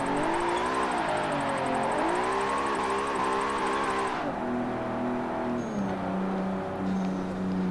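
Race car engine in a driving sim video game, revving with rising and falling pitch through gear changes, a loud continuous whine that eases to a lower steady drone partway through, heard alone.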